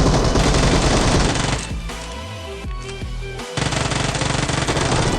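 Loud, dense automatic gunfire from a squad fight in and around a house in PUBG, with sustained bursts that briefly thin out in the middle before heavy firing resumes, heard up close.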